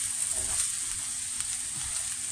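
Vegetable pieces browning in a frying pan give a steady, close sizzle with faint stirring clicks and no voices.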